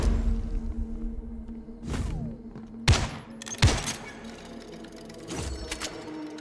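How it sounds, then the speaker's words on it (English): Shotgun blasts in a co-op VR zombies game on a museum map: several sharp, loud booms spaced irregularly over a low background hum, with no talking. "I can slow them down with the shotgun"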